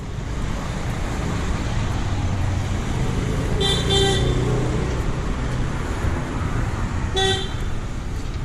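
Two short car horn toots sound a few seconds apart over a constant rush of passing traffic, the honks moderately near and brief.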